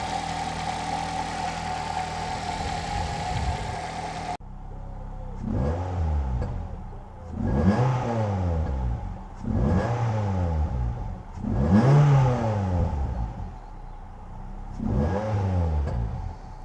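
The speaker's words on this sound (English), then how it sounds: "I think it's got a bit more induction noise." Ford Fiesta ST150 with a Graham Goode Racing cold air induction kit, revved repeatedly after a steady idle: five or six close, loud rising-and-falling engine sweeps with strong intake noise, no talk.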